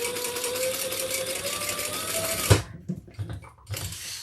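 A sewing machine stitching across the folded end of a tote bag, a fast steady mechanical whir that stops halfway, followed by a few soft handling knocks.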